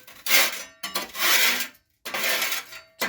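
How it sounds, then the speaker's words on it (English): Firm scraping of stuck ash off hardened fire-lighting wax, three long rasping strokes in quick succession with short pauses between, close and fairly loud with no talk. "this is where the ash is stuck to the wax that I used to light the fire. So I'm just going to scrape that"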